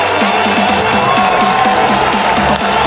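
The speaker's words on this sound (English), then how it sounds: "Everyone's clapping and excited." A large audience cheers and whoops loudly for a speaker taking the stage, a dense, continuous roar of excited voices close and filling the whole moment.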